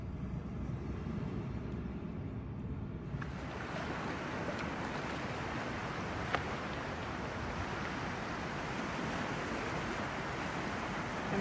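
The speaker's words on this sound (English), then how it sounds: "Tide coming in, washing over them." Sea waves wash steadily over rock ledges as the tide comes in along a fossil-hunting shore, a continuous broad roar of surf with wind buffeting the microphone and one sharp knock about midway.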